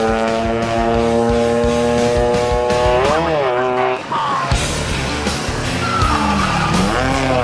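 A rally car in a mountain hill-climb race drifts through a curve, its engine whining in a rising then falling pitch before a gear change, followed by tyre scrub and further revving, loud and close.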